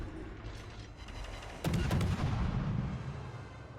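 Heavy warship main guns fire in a naval battle in World of Warships Legends: a deep, rumbling salvo of booming shots lands in a quick cluster, then rolls off into a lingering low roar over constant engine and sea noise.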